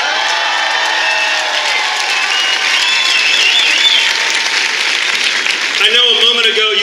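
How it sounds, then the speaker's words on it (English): A graduation audience at Chief Sealth International High School's 2015 ceremony applauds and cheers loudly and steadily for the graduates, with a speaker's voice emerging over the tail end. "gave a big round of applause"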